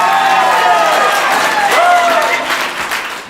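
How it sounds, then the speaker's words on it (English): A crowd breaks into sustained applause for a contestant at a game-style event, loud and close, mixed with a few voices and a whistle-like tone rising over the clapping. "Let's hear a round of applause for Mo."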